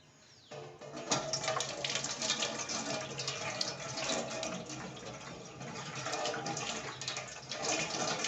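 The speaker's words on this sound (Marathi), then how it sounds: "गाईज चाळणी पण धुवायला लागेल." A kitchen tap runs onto a sieve in a sink, a steady close splashing stream that starts abruptly and keeps going with small shifts as the sieve is rinsed.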